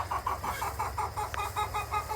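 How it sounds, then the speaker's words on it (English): Hens cluck in a farm chicken yard, a steady rhythmic series of close, fairly loud clucks and short calls with no voices. "there's always some kind of drama in the chicken yard"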